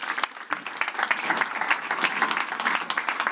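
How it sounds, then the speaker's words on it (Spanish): An audience at a blockchain conference in Ibiza breaks into applause, many hands clapping densely and steadily, fairly near and continuing throughout. "Un aplauso para ellos, por favor."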